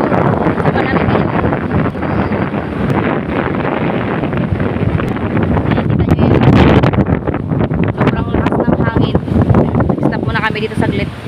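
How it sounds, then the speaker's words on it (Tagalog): Strong wind, with the northeast monsoon blowing, buffets the microphone with loud, continuous rumbling gusts while people talk underneath. "lakas ang hangin"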